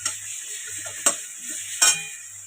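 Onion frying in oil with nigella seeds, a bay leaf and cardamom for a prawn curry, giving a steady soft sizzle with two sharp clinks of a utensil against the pan, no talking.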